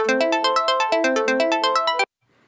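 Logic Pro arpeggiator plugin set to octave 2, variation 1, running a synth chord up and down as a fast, evenly spaced string of bright plucked notes, clean and alone, stopping abruptly after about two seconds.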